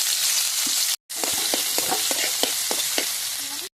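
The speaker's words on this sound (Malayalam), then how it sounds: "ഇഞ്ചി വെളുത്തുള്ളി ചതച്ച് വെച്ചിട്ടുണ്ട് ഇത് നന്നായിട്ട് വഴറ്റിയെടുക്കാം കേട്ടോ" Crushed ginger and garlic sizzle in hot oil in a pan with a steady frying hiss, broken by stirring scrapes. A brief gap comes a second in. No one speaks.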